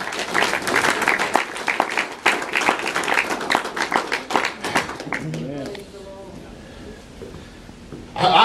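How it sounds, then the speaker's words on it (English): A church congregation claps and applauds in praise, a dense burst of loud hand claps for about five seconds that then fades into quieter sounds with some voices. "Give the Lord a hand clap of praise while I rest."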